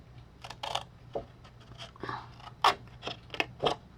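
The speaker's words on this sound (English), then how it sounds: "so I'm going to cut these two sides out" Scissors cutting paper for an envelope box, a series of crisp, separate snips at an irregular pace, close and fairly quiet over a low background hum, with no talk.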